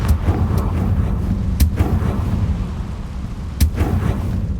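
Confringo fire spell blasts bursting in Hogwarts Legacy, two sharp explosive cracks standing out over a steady low rumbling battle backdrop.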